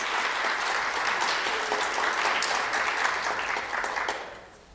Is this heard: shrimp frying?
no